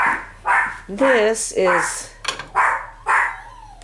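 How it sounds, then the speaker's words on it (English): Dogs bark in a room of antique dishware, giving several sharp, close barks at irregular intervals and a few whining yips in between. Someone speaks briefly among the barks. "No barking, guys."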